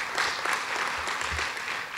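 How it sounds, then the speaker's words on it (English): A crowd clapping steadily for a couple of seconds at an awards dinner, sounding somewhat distant in a large room. "Scott Plank, give him a round of applause."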